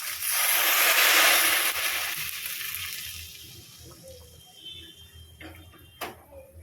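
Hot ghee and oil poured over mutton in a pan, giving a loud hissing sizzle at first that slowly fades to a quieter crackle, with a few clicks of utensils near the end.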